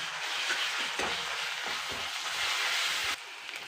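Onions sizzle and fry in hot oil with ginger-garlic paste, a steady close crackle with a few stirring scrapes, ending slightly quieter after about three seconds.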